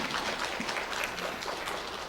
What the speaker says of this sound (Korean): 박수를 그렇게 많이 쳐주시면 제가 교만해져서 조금만 주셔도 됩니다.